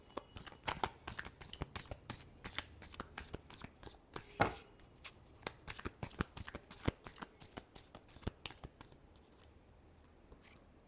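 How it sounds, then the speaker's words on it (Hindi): Tarot cards shuffled by hand in a long run of quick, crisp riffling flicks, close and fairly quiet, tapering off near the end. "Last shuffle."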